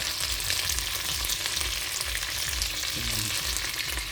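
Dried fish (tuyo, buwad) frying in oil, giving a continuous close crackling sizzle with a brief stirring scrape near the end and no voices.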